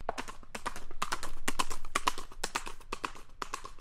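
A horse-hoof clip-clop sound effect, a quick, steady run of crisp, close hoofbeats in an even trotting rhythm, loud and alone without talk.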